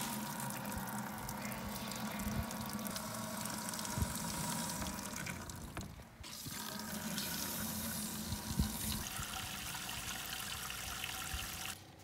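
Steady rushing flow of pink antifreeze running through a Little Guy Max camper trailer's toilet plumbing, continuous and fairly close, with a brief break midway before it resumes.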